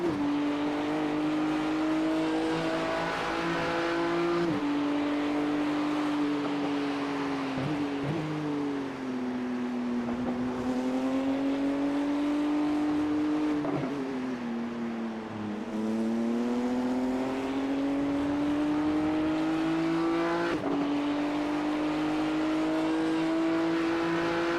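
Onboard a GT3 race car lapping Sebring, the engine loud and constant, its pitch rising through the gears and dropping on each shift and braking zone, with no voices.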